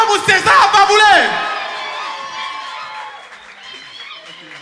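An audience cheers and shouts loudly at a French music performance, with whoops and bellowing voices at first, then fading into lighter applause and a lingering room sound.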